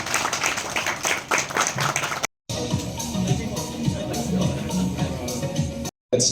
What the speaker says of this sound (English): Come on, a huge round of applause.